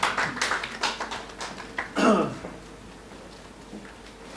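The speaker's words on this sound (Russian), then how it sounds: "Ваши аплодисменты." Audience applause at a talent show for the third-place finisher: a burst of scattered clapping in the first two seconds that quickly thins and fades to quiet.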